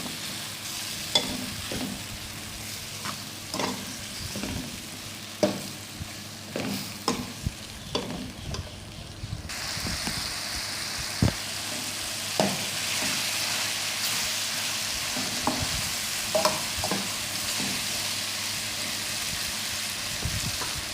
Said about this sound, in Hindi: सब चीज़ों को अच्छे से फ्राई करेंगे।